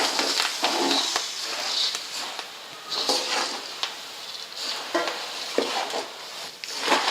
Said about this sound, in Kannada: ಚುರುಮುರಿ ಹಾಕೋತೀನಿ ನೋಡ್ರಿ.